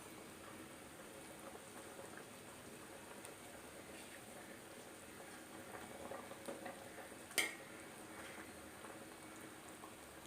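A pot of isuka dhondhulu clam curry boils steadily with fresh coriander stirred in, giving a faint, even bubbling and soft simmering hiss and one brief clink partway through.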